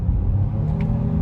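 A 2021 Honda Pilot AWD Special Edition's engine hums steadily from inside the cabin, with a faint brief shift blip near the end of the short stretch.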